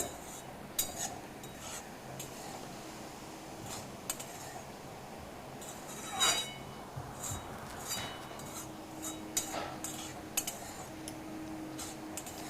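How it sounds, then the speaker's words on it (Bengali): Chana dal powder, ghee and melon seeds are stir-fried in a pan with a soft, continuous low sizzle. Faint, irregular ticks and scrapes of a spatula sit on top of it. "এখন আমি এই ঘি আর মগজদানার সাথে একসাথে আরেকবার নেড়েচেড়ে ভেজে নেব।"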